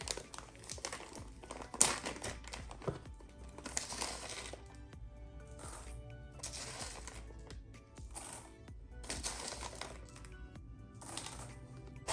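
Tape crinkling and peeling off a crystal-filled scoop in several short crackly bursts, close and fairly quiet, with brief pauses between tugs.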